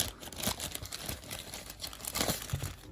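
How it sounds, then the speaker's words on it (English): Plastic bag crinkling and rustling during an unboxing of a Perst 4, with irregular bursts of crackly handling noise close to the mic, several louder crunches around the middle and near the end. "So it's gonna come in this plastic bag."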